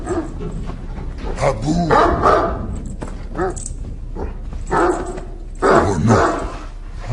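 A dog named Babou barks repeatedly in short, loud bursts, close by, mixed with whimpering yips while a person talks to it in French.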